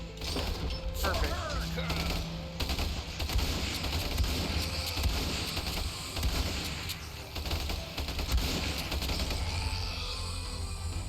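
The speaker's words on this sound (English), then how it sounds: "Did that guy just die from my gunshot or someone else's gunshot?" Battlefield gunfire from the Ultimate Epic Battle Simulator video game crackles in a dense, continuous barrage of shots mixed with crashes, while a player talks over it.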